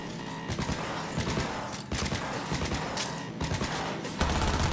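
Gunfire in the video game Cyberpunk 2077, repeated bursts of shots separated by short pauses over a busy background, loud and close.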